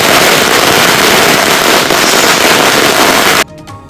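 Firecrackers set off at a political party's street protest: a loud, dense, continuous crackle of rapid bursts that carries on for over three seconds, then cuts off abruptly, leaving a few faint scattered pops.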